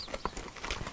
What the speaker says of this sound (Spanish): el montar a caballo es otra experiencia